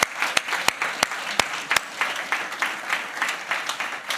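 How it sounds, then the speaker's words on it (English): An audience at a pitch event applauds all five competing teams, with several sharp nearby claps over a lighter, steady patter of clapping that continues for about four seconds. "How about a big round of applause for all 5 teams?"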